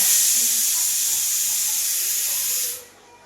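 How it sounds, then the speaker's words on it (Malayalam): A pressure cooker on the stove hisses steadily as it steams carrots, a loud continuous jet of escaping steam that cuts off sharply near the end, leaving quiet. "ഞാൻ വേറൊരു കുക്കറിൽ ക്യാരറ്റ് വേവിക്കാൻ വേണ്ടി വെച്ചിട്ടുണ്ട് അതിന്റെ സൗണ്ടാണ് ഇടയ്ക്ക് കേൾക്കുന്നത്"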